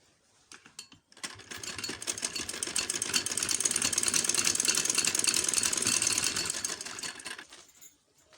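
A sewing machine stitches the folded bottom hem of a winter baby girl's frock, a close rapid mechanical whirring that starts after a few brief clicks, runs steadily for about six seconds, then winds down.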